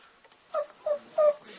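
A puppy whimpers close by in three short, high, nasal cries spaced about a third of a second apart, with quiet room noise between and no talking.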